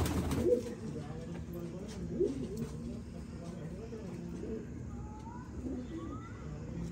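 Pigeons coo softly in a pigeon fancier's loft, low repeated calls blending with background murmur and chatter, with a few faint higher bird chirps mixed in.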